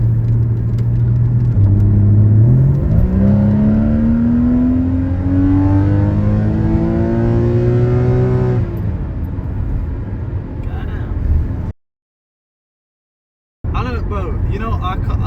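A car accelerates hard along a busy daytime dual carriageway, its engine note climbing steadily through the revs and staying loud and close before it drops away to a brief silence and then returns.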